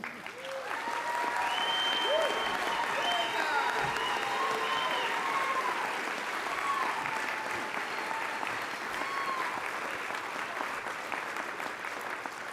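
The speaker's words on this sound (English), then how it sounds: "please give this man a round of applause." Sustained applause from a large crowd at a business awards show, loud and steady throughout with a few cheers and whistles rising above the clapping.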